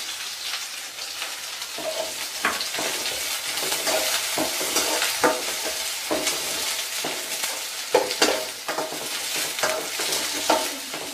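Green chillies and onions fry in hot oil with a steady, dense crackling sizzle, broken by the scrape and clatter of stirring, heard up close with no talk.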